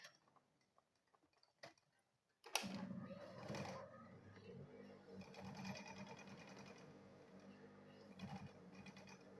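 A sewing machine starts up after near silence and then stitches a leather lunch bag with foam, running steadily and close with a fast mechanical rattle to the end.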